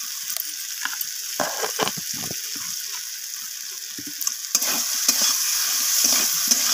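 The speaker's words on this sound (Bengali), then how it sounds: "লবণটা দেওয়ার পর আমি আবারও নাড়াচাড়া করে নিচ্ছি এইভাবে।" Spice masala for a surmai fish curry stirred in a pan, with a steady sizzle of frying and scraping, clattering spoon strokes against the pan that grow busier toward the end, no talking.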